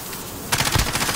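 Automatic gunfire in Call of Duty Modern Warfare multiplayer: a brief, rapid burst of shots erupts over a low background hum, dense and moderately loud, with no one speaking.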